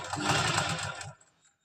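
Sewing machine running a continuous stitch along stretched elastic on palazzo pants, a steady close mechanical whir for about a second before it stops and leaves near silence.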